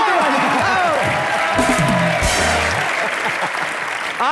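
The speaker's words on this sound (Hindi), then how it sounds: "दूर से जोरदार तालियां" Loud applause and cheering from a comedy show studio audience, dense clapping with whoops, while voices and music-like tones rise over it near the middle.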